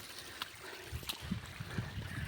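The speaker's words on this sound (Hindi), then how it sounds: "केते बढ़िया झरना पानी" Water from a hillside waterfall at Timna hill flows in a steady, soft wash of broadband rushing with faint gurgles and a few low knocks, distant and continuous with no voices.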